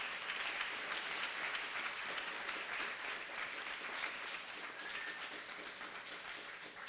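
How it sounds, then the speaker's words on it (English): Members of a church congregation clap for their youth in a continuous, even round of applause that is full but a little distant, tapering slightly toward the end. "Can we give them a round of applause?"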